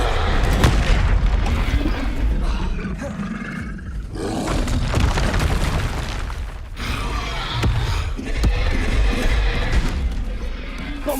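Explosive spell blasts from Confringo and Bombarda in the Hogwarts Legacy video game roar and boom in a dense, loud, continuous barrage, with layered crashing bursts rolling one into the next.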